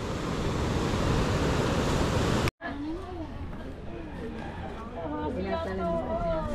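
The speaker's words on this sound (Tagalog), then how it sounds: "ganun pa rin ang mga alon, malalaki pa rin" Big ocean surf pounds at the shore as a loud broad roar with wind buffeting the microphone, then breaks off abruptly and gives way to people talking over a fainter wash of waves.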